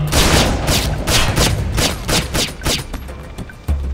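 Gunfire in the video game Splinter Cell Conviction: a loud, close burst of rapid repeated shots with booming low thumps, thinning toward the end, with no talk.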